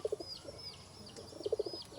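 Breeding pigeons in a loft coo in short, soft repeated bursts, with faint high chirps above; the sound is close and fairly quiet.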